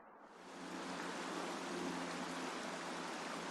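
Mineral spring water runs steadily at a backcountry campsite on the Rubicon Trail, a soft, continuous rushing that rises in the first moment and then holds even and close, with no voices.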